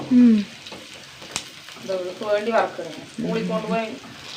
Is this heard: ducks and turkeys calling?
no